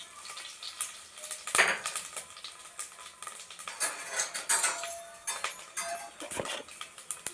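Bay leaf, cinnamon and fennel seeds fry in hot oil in a cooker for mushroom biryani. Close, irregular crackling and sizzling pops are mixed with occasional sharp metallic clinks of a utensil against the pot.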